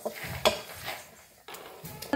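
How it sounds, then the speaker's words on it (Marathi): Coriander seeds dry-roasting in a pan, with soft rattling, stirring and a few sharp clinks of a spoon against metal. The sound is close and fairly quiet, and there is no talk. "धन घेतलंय, धन बी भाजून घेऊया।"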